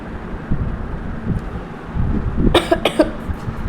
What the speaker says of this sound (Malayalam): സോറി ഗൈസ്, എനിക്ക് ചുമയാണ്